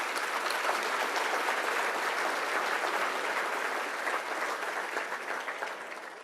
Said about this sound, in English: There's your nominees. Let's give them a round of applause.